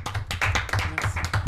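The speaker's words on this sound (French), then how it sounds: "On peut l'applaudir très très fort." Brief burst of studio audience applause for a guest on a French talk show, a close rhythmic patter of individual hand claps, loud and without talk.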